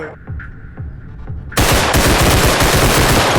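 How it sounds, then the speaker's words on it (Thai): Rapid automatic gunfire from the realistic shooter game Bodycam, a loud dense burst erupting suddenly after a few quieter shots and continuing without pause. "โอ้ยผมยิงก่อนนะเว้ยทำไมไม่ตายวะ แล้วใครยิงกู"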